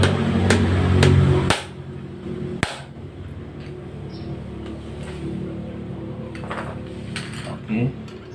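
Screwdriver tip tapped against a part of a sewing machine that keeps breaking needles and skipping stitches. A few sharp, close metallic knocks over a low background hum, with quieter clicks afterward.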